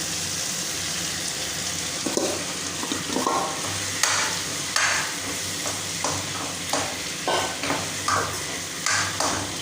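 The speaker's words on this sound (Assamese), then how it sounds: "আলু আৰু কঁঠাল গুটি ইয়াতে দি দিওঁ। এতিয়া মই অলপ দেৰি ভাজিম।" Potatoes and jackfruit seeds fry in a pan, a constant close sizzle broken by a series of rhythmic scraping stirs and clinks from a spatula, with no talking.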